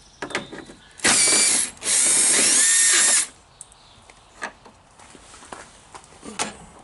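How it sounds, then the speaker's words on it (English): Two bursts of powered ratcheting as a 10mm headlight bolt on a Toyota Camry is backed out, each lasting about a second, loud and close, separated by quiet workshop pauses and faint clicks. "Back on to removing your headlight assemblies. You have one 10mm bolt on each side."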